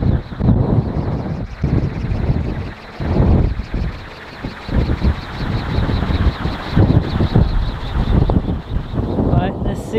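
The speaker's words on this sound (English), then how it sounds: "I'm trying to shield the wind from the microphone a bit." Gusty wind buffets an outdoor microphone beside a DIY axial flux wind turbine, a loud broadband rumble that surges and dips throughout, with someone talking over it.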